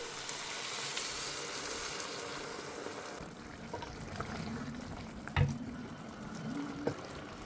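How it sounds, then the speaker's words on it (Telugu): Mutton water is poured into frying mutton for a curry, giving a soft sizzling hiss and trickle that fades and is quieter in the second half, with a few small clinks. "సో నేనైతే మటన్ వాటర్ వేసుకుంటున్నాను."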